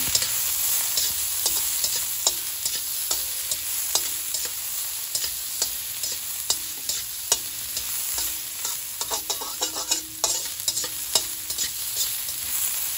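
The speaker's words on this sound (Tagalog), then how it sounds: "Hintayin na natin talaga mag-brown yung ating luya." Chicken pieces and plenty of ginger fry in hot oil, a constant close sizzle broken by frequent rhythmic scrapes and knocks of a spatula stirring the pan.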